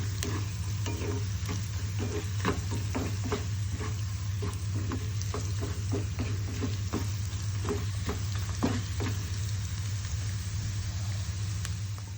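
Spices for a buttermilk rasam tempering fry in hot oil with a steady, close sizzle and frequent small pops and crackles throughout, over a constant low background hum, with no talking.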